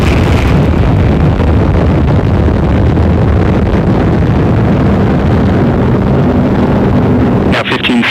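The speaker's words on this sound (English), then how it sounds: "Liftoff, the United Launch Alliance Atlas V rocket" United Launch Alliance Atlas V rocket lifting off from SLC-41 at Cape Canaveral carrying an SBIRS satellite, a loud, continuous broadband roar and crackle sustained throughout, with wind buffeting on the microphone and a brief dip near the end.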